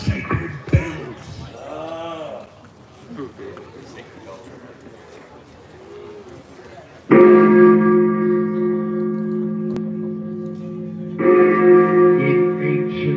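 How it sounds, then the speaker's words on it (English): Sacred bells ring out loud and sustained at a fudge eating contest, a long resonant chime starting suddenly after talk, holding for several seconds, then struck again near the end. "we have to play the sacred bells"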